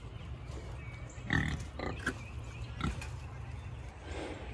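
A pig being loaded and balking at a gate on a farm, giving a few short grunting squeals over a steady low rumble of background noise.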